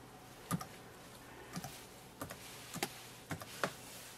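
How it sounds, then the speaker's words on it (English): Password typed on the keyboard of an HP Tango X laptop: a handful of quiet, sparse key clicks in small irregular clusters over faint background hiss, no voices. "now enter the password here"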